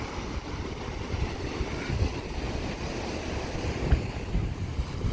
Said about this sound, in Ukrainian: А море штормить так дуже сильно. Хвилі йдуть здалеку.